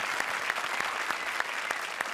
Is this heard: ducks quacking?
no